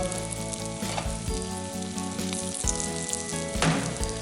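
Steady crackling sizzle of fish and finely chopped onion frying in a hot pan, with occasional stirring scrapes and no voices.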